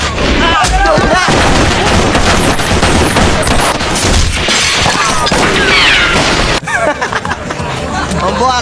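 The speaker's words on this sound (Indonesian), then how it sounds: "langsung menembaki adik Ned dengan ribuan peluru" Dense bursts of gunfire from many weapons ring out in a violent film scene, a loud sustained fusillade mixed with crowd babble and shouting throughout.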